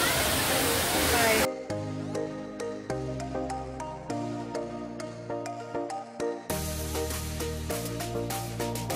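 Hinulugang Taktak waterfall in Antipolo gives a dense, loud rushing roar for about the first second and a half, then cuts off abruptly as music takes over.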